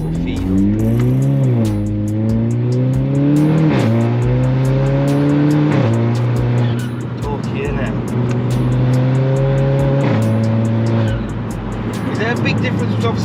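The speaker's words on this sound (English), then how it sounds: "I'm gonna go for a little drive now, test out the Golf GTI" A Stage 2 Volkswagen Golf GTI engine revs up through several gears in sport mode, pitch climbing and dropping at each shift, loud and steady throughout with faint talk underneath.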